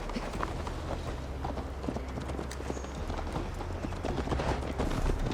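Rapid hoofbeats from a galloping horse in Assassin's Creed Valhalla thud in a quick, continuous rhythm close by, under a bed of steady ambient noise.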